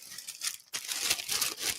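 A paper bakery bag of croissants from a Barcelona bakery crinkles and rustles up close, a short crisp handling noise with a brief pause before louder continuous crackling.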